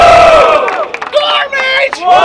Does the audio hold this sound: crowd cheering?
yes